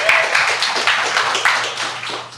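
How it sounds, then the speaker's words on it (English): Applause from an audience at a restaurant catering industry panel, a steady patter of many hands clapping at close range for a couple of seconds, with faint background talk. "Round of applause again."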